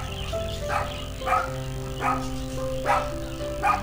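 Dogs at a resort animal park in Dalat give a series of barks, about one every second, over a steady tonal hum of background music.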